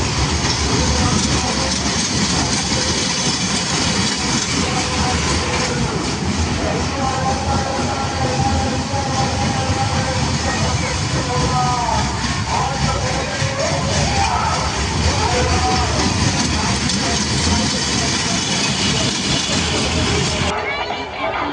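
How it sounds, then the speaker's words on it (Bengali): A dragon train ride rumbles past at the Silchar Gandhi Mela fair, a loud continuous mechanical rolling clatter lasting throughout, with a voice talking over it. "আর এদিকে আছে আপনার ট্রেন যেটা ড্রাগন ট্রেন"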